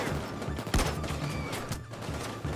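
A gun test-fired in Payday 2 during a jewelry store heist, a few sharp shots with a strong crack near the start and lighter reports after, over a steady low game background.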